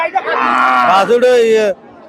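At a cattle market, a single loud, drawn-out cow moo close by, rising and wavering, with faint crowd noise in the background.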